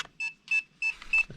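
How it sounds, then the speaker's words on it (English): DJI FPV goggles in binding mode emit four clear electronic beeps in a regular rhythm, close and moderately loud, with no talking. "It's beeping."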